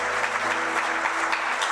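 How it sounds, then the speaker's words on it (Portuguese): A church congregation applauds during a sermon on the Lord's Supper, a dense, even patter of many hands with a low background hum and no voices. "Dá um glória a Deus, um aplauso ao Senhor."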